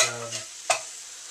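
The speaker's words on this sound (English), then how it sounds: "So now we just add the garbanzo beans into both dishes, and we stir." A spoon stirring garbanzo beans into a pot of chili makes a short scrape and sizzle, with one sharp clink midway, close and brief.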